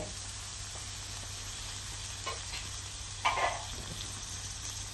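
Butter shrimp sizzles steadily in a hot pan as chili goes in, a continuous close frying hiss with a few brief louder crackles and stirring scrapes, no voices.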